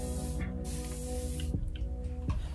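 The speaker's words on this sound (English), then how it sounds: "Now I'm gonna spray this part." Several short hissing bursts of a spray bottle sound close by over a steady low hum, with no talking.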